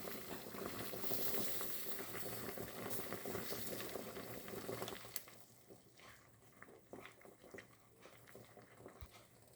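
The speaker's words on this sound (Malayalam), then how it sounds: "അപ്പോൾ ഇതൊന്ന് തിളച്ചിട്ടുണ്ട് ഇനി അല്പനേരവും കൂടി ഇത് ഇതേ രീതിയിലൊന്ന് വേവിച്ചെടുക്കുക" Rice porridge for small children boils in a pot with a dense, loud bubbling for about five seconds, then settles into quieter, sparser pops and gurgles.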